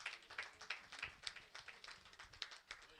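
Faint round of applause at a book presentation, with scattered individual claps in an uneven rhythm, heard from a distance and quietly for a few seconds.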